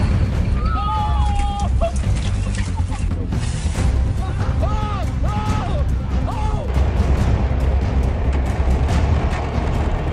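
New Year fireworks and firecrackers burst in a continuous, loud barrage of crackling bangs and booms, with whistling rising tones threaded through the dense noise.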